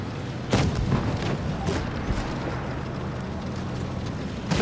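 A tank cannon in World of Tanks Blitz fires a few heavy booms separated by seconds, with a steady engine and ambient rumble between them.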